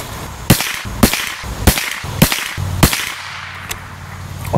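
Five sharp .22LR rifle shots from CCI Mini Mag hollow-point ammunition, fired at a steady pace of roughly one per half-second, each a loud crisp crack with a short decay, followed by a fainter distant pop and quiet background.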